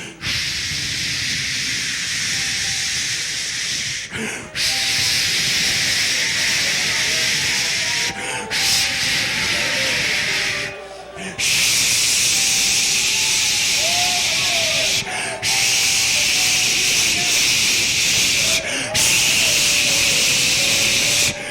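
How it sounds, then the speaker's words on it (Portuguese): Violent rushing wind roars in loud continuous blasts, broken by a few sudden brief gaps, with faint tonal sounds drifting underneath. "um vento veemente e impetuoso"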